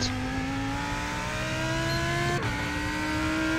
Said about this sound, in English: We have a very fast LMP2 car coming up.